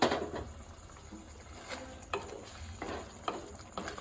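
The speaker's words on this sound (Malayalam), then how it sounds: "അപ്പം ഞാൻ ഇതിലേക്ക് കുറച്ച് തിളച്ച വെള്ളം ഒഴിച്ചു കൊടുക്കുകയാണ്" Boiling water is poured into a simmering mushroom masala curry, giving a brief hiss and sizzle followed by soft, intermittent bubbling and stirring sounds at close range.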